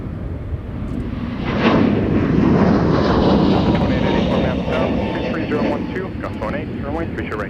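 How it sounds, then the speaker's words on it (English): A Delta Airbus A321neo departs Minneapolis–Saint Paul airport, its jet engines a loud, steady, broad roar that swells and holds throughout, heard from nearby outdoors. "here's Delta 377 off to Anchorage, Alaska with a 321 Neo"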